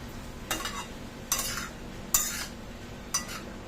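Mixed vegetable sabji is stirred in a pan with a utensil, four separate scraping strokes spaced about a second apart over a quiet background, close and moderately soft.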